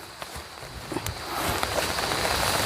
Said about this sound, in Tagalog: Tara na, kasi umuulan na.